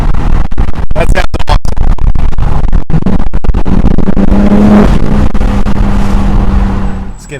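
BMW G80 M3 with an aftermarket midpipe, its exhaust revving hard and loud in a sustained roar with crackling pops, the engine note rising and falling before cutting off near the end.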